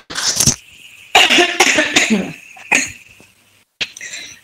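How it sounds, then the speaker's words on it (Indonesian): Several loud, close coughs come in separate bursts with short pauses between them, some harsh and rasping, in a quiet indoor room during a class session. "maaf, saya batuk"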